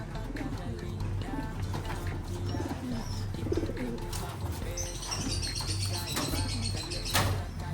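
Pigeons coo softly nearby amid scattered chirps and rustling, with a brief burst of wing flutter near the end.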